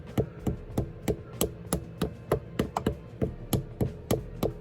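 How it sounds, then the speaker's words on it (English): Light hammer taps driving a part into place on a Hyundai Tiburon being built for drag racing, a steady run of about a dozen sharp, close metallic knocks at a slow even rhythm, with no talking. "you can tap it in there, and it's just slowly tapping it"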